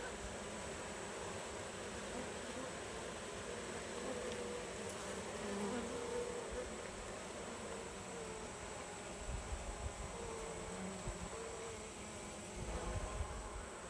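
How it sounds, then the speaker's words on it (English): A colony of honey bees inside an open Layens hive drones in a continuous, soft, low buzz that stays level for the whole stretch, with only faint handling rustles and no speech. "There's a lot of bees in here."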